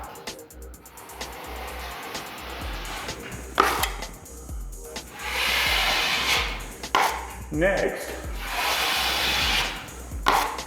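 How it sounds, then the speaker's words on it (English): A 6-inch drywall broad knife scrapes and spreads joint compound over a seam during a living room renovation, in repeated rasping strokes with short pauses between passes, close and fairly loud. "And I'm just using this 6-inch broad knife."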